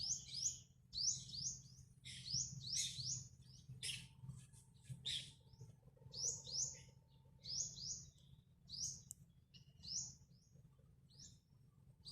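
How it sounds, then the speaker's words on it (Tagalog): Birds chirp and sing in a quiet forest in repeated bright, quick phrases against a quiet, low background hum, with the calls coming at a relaxed, regular pace. "Puni lamang ng ibon ang iyong madirinig."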